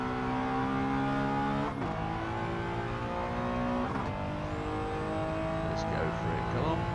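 A Honda S660 kei car in Gran Turismo 7 at Willow Springs Street drones at steady high revs, with engine pitch dropping sharply at two downshifts, loud and continuous throughout.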